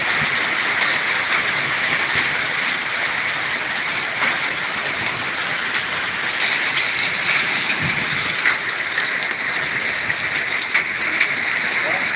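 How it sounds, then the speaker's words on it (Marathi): Steady heavy rain with hail hisses and splatters on surfaces, with a dense continuous wash of pelting drops and no voices, at Sajjangad, Satara. "मुसळधार असे गाराचा पाऊस चालू झालेला आहे"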